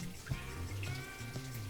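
Water draining from a hose off a sailboat's hot water heater (calorifier), a steady low trickle and gurgle inside the boat with a couple of faint drips.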